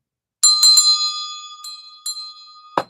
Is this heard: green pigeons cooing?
no